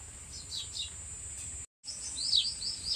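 Small birds chirp and tweet in a green rural garden, several short high calls scattered at a moderate distance over a soft background hum, with a brief gap of silence midway.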